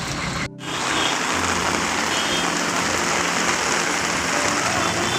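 Heavy rain pours at Dhanushkodi, a loud, dense, continuous roar that rises after a brief dip at the start, with no voices.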